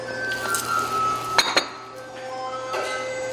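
A ceramic pot used for microwave cooking clinks twice sharply as it is handled, over a faint background hum.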